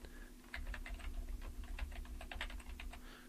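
Quick, quiet taps on a computer keyboard, a short burst of a dozen or so keystrokes close by over a faint electrical hum.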